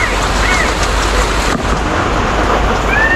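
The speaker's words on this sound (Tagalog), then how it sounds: "Kakaiming tayo ulit ng ulan." Steady rain pouring down, a dense continuous hiss with a faint rumble underneath and no voices.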